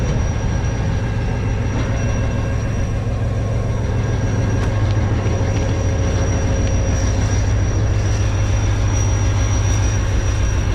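A Green Line Express train locomotive drones with a deep, steady engine rumble and a high whine, loud and constant, with faint wheel squeals mixed in.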